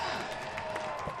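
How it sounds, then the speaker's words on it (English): A hometown crowd cheering at an ultimate frisbee playoff game, a steady distant roar of applause and voices in a stadium, with commentary talk over it. "Hometown crowd getting fired up for this 0-point."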